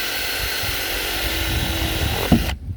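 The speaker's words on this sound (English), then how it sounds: "Here's the big boy drill bit. We're gonna use it for the seat." A power drill with a large bit whines steadily while boring holes in the floor of a 1997–1999 Chevy C/K 1500 extended cab truck, close and continuous, then stops abruptly near the end.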